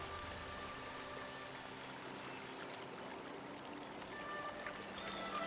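Waterfall in the Ancient Cistern of the video game Skyward Sword, a steady, broadband rush of falling water that pours on without a break, moderately quiet and even throughout.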